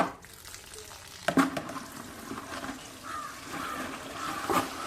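Water pours into a bucket for washing a Tata Tigor car, a continuous close rushing hiss that swells slightly as it runs. No one speaks.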